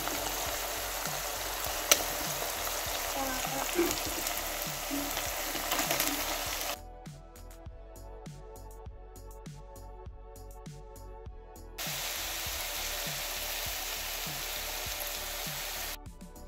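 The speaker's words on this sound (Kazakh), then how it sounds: "Кішкене етіміз қуырылған соң үстіне сарымсақ және де пиязымызды салып кішкене қуырып аламыз" Meat frying in a pan with garlic and onion added, a continuous crackling sizzle with bursts of spitting that drops quieter for a few seconds midway before returning to full strength.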